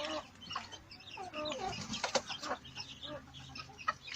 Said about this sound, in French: Il y a certains petits poussins, ouais, voilà. Ils sont en train de manger.